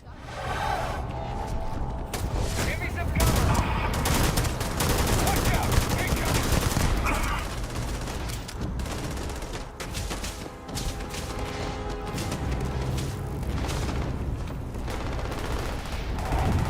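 Security forces in New Atlantis open fire in the video game Starfield: dense, continuous rapid gunfire bursts layered over busy game sound, loud and sustained throughout.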